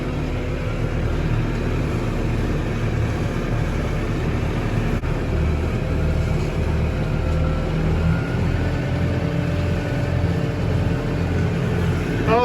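A tractor pulling a hay mower through a grass crop drones steadily, with continuous loud engine and machinery noise close by and no pauses or voices.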